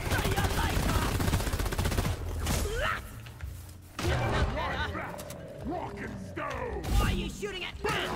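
Rapid gunfire bursts from a shooter video game, loud clattering shots in the opening seconds followed by intermittent game effects and mechanical sounds, mixed with game voices and talk.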